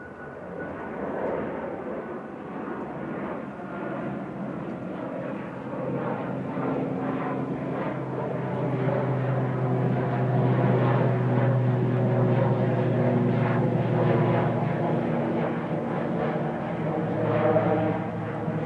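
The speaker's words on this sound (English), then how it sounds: "Logan Air ATR 42500 with flight LM28 heading back to Aberdeen" A Logan Air ATR 42-500 turboprop airliner at Manchester Airport drones with a steady propeller hum and layered engine tones that build gradually and hold at moderate distance, with faint voices underneath.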